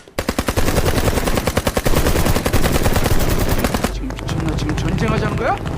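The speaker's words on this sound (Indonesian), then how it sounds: "Korea Utara memalsukan bunyi tembakan dengan pengeras suara" Rapid bursts of automatic gunfire, faked by North Korea through a loudspeaker, rattle loudly for several seconds with a harsh, amplified quality, then stop as a voice speaks over a lingering background.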